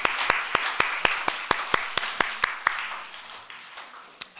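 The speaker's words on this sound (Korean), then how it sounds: "우리 다시 한번 감사의 박수 올려드리겠습니다" A church congregation at a New Year's Eve worship service claps in thanks, a sparse, steady rhythm of individual sharp claps standing out over a softer wash of applause that thins toward the end.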